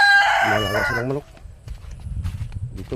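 Rooster crowing with chickens clucking on a Philippine farm near a fishing spot, a loud crow in the first second followed by softer scattered clucks and yard noise.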